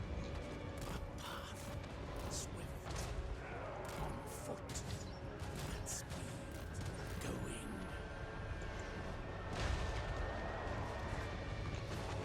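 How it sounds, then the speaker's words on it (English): Booming cannon blasts and crashes in rapid succession as cannons smash towers in the video game Eternal Empire, over a dense, noisy game soundscape with rumbling and mechanical clatter. "our cannons take this one apart"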